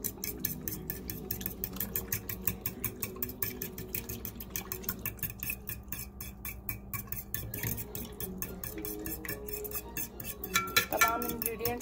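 Eggs, milk and a pinch of salt beaten together in a bowl for French toast, a steady rapid clinking and scraping of utensil against the bowl that runs throughout, close and fairly loud, with a brief louder clatter near the end.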